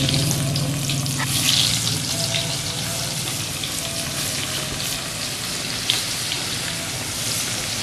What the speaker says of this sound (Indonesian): Habis numis kangkung, kita goreng tempe.